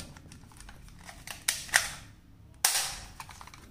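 A black toy gun firing its electronic sound effect when its button is pressed, a few sharp, bright bangs over a faint background hum, the loudest near the end, with no talking.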